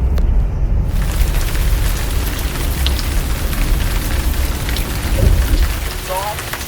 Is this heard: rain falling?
yes